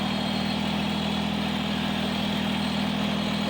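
Kubota BX23S compact tractor hauling a heavy load of pea gravel, its engine holding a steady, even drone with no pauses or revving.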